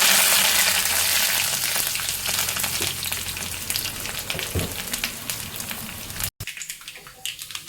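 Seeds, garlic cloves and curry leaves fry in hot oil as a tempering for a chutney, giving a steady, close, loud sizzle and crackle with a few soft stirring knocks before it briefly cuts out and settles quieter.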